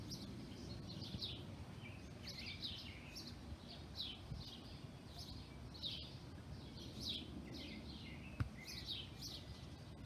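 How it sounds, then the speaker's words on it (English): Small birds chirp in a quiet backyard, short bright tweets repeating every second or so at moderate distance over a soft, low ambient hum, with one sharp knock near the end. "Little birds like to take a drink."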